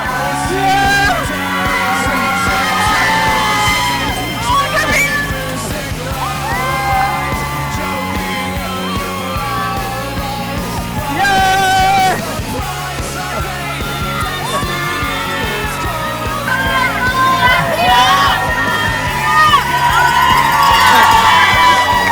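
A roadside marathon crowd at a cheer zone yells, whoops and cheers runners on continuously, loud and close, with children's shouts and bursts of excited voices rising and falling throughout.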